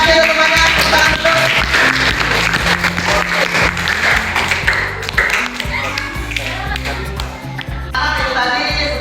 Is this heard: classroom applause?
yes